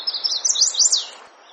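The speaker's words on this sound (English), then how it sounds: "The chestnut-sided warbler, which says, "Please, please, please to meet ya."" Chestnut-sided warbler singing a single bright, rapid song phrase of quick rising and falling notes, fairly close and clear over faint background hiss, ending abruptly.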